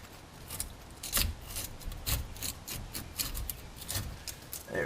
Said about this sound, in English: this portion of the brake caliper is now free. You just got to wiggle it off